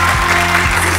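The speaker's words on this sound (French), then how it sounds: "Applaudissements pour Michael" A French television studio audience breaks into brief, loud applause, a dense burst of clapping over a low steady hum.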